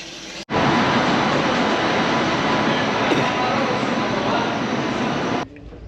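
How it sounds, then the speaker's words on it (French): A train at a railway station in India, a loud sustained rumble and rush of carriages filling nearly the whole stretch, cut off abruptly near the end. "On est arrivé à la gare"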